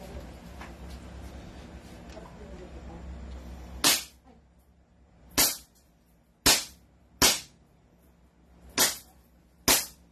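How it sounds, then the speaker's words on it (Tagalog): Pistol gunshots at an outdoor firing session, six sharp loud reports spaced one to two seconds apart, following a stretch of low background murmur. "Okay, firing."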